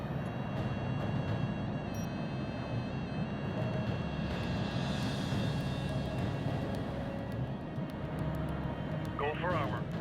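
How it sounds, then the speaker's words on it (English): Aircraft engines in a military strategy video game, a continuous droning hum of planes with a swelling pass midway, under radio-style talk. "Once their ammunition is depleted, aircraft will automatically return to the command carrier to reload and repair."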